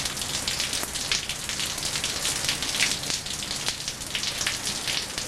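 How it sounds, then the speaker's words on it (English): Rain falls steadily outdoors on a wet day, a dense close hiss with scattered louder drips striking a surface throughout. "the rainy, rainy day."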